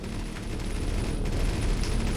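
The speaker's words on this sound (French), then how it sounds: "il me tire dessus et il me fait mal" Pirate ship gunfire in the space game Avorion, a steady, dense rattle of rapid-fire weapon shots under a constant low rumble, with no pause across the whole stretch.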